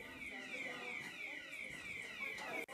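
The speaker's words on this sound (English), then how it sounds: "It's an alarm." A building alarm sounds during a Sunday church service, a sweeping electronic tone repeating steadily in a faint, distant-sounding room with a voice over it.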